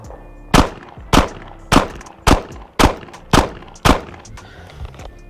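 Seven shots from an HK VP9 pistol fired at about 10 yards ring out in a steady rhythm roughly half a second apart, each a loud sharp crack with a short decay, no talking.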